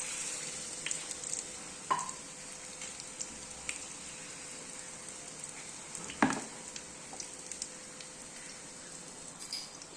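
Batter-coated banana pieces fry in hot oil with a steady, close, soft sizzle and crackle, broken by a few sharp pops and a clear knock of a utensil.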